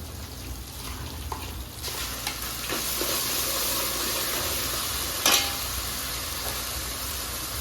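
Roasted onion paste with curry leaves and ginger paste frying in a pan for fish pulusu, a continuous close sizzle and hiss that swells partway through, with occasional stirring scrapes and one sharp clink near the end.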